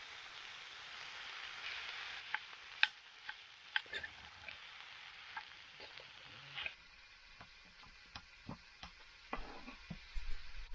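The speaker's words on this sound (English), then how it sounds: "I continued to stir the fried rice while allowing the bottom to crisp up a bit." Kimchi fried rice stirred in a pan at a camp stove, a soft steady sizzle of the bottom crisping under scattered clicks and taps of a utensil against the pan.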